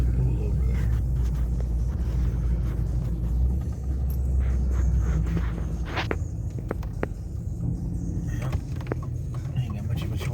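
Vehicle rolling slowly through tornado-damaged streets in Sullivan, Indiana, with a steady low rumble, crunches and scattered knocks from debris, and occasional voices inside.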